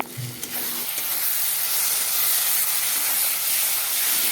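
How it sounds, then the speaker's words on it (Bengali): Spice paste for a rohu fish curry sizzles and hisses steadily in a hot pan, a dense continuous fry heard close and loud from start to finish, with no voices. "এখন মশলাটাকে ভালো করে কষিয়ে নেব"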